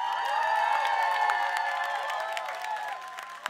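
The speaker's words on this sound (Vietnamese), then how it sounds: "tất cả mọi người một tràng pháo tay thật lớn và một tiếng la thật lớn cho 14 thí sinh trong áo dạ hội ngày hôm nay" A large audience at a Nail Queen 2023 beauty pageant final claps and cheers steadily for fourteen contestants in evening gowns. Music plays underneath, and the crowd noise stays loud and sustained throughout.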